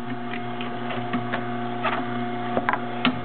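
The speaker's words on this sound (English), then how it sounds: "This is an Omega. A masticating juicer." An Omega masticating juicer runs at steady close range, a constant motor hum with faint periodic ticking and a few small crunching bursts as escarole greens are pressed through.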